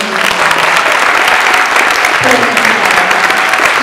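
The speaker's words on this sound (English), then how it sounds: "I would like a big round of applause for Mrs. K." Steady, loud round of applause from an audience at a year-end fashion show, dense clapping filling the whole stretch without a break.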